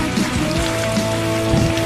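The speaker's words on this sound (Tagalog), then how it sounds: "Presko ang paligid kasi umuulan." Rain falling steadily, a dense continuous patter of drops on surfaces, evenly loud throughout with no voices.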